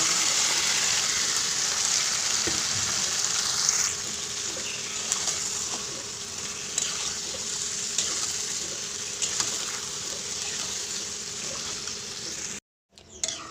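Marinated fish frying with onions in a pan, a steady loud sizzle with faint clinks of stirring, the hiss easing slightly partway through before a brief dropout near the end.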